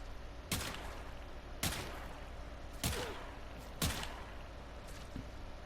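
Pistols fire in the video game Warframe in four sharp, evenly spaced shots about a second apart. Each crack is fairly loud and has a short ringing tail over quiet background.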